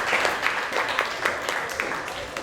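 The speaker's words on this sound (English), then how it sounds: "One round of applause." Scattered clapping from a crowd at a community speaking event in Taipei, Taiwan, steady and moderately loud, with overlapping hand claps blending into a continuous wash of applause.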